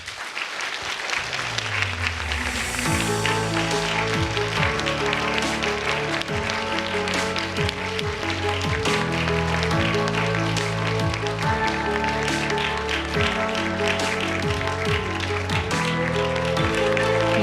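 Steady, sustained applause from an audience at a WFWP LA relaunch ceremony fills the room, layered under loud stepping music.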